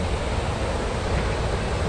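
The stream flowing out from the Dray Nur hydropower waterfall rushes in a steady, dense, close wash of water, with no voices.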